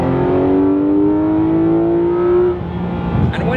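A Porsche 911 GT3 RS engine revs hard in third gear, its pitch climbing steadily to a high shriek around 7,000 RPM before cutting off, followed by a brief lower rumble.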